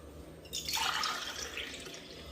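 Buttermilk pours into a bottle at home, a short gurgling liquid stream starting after a brief pause and continuing steadily to the end, close and clear.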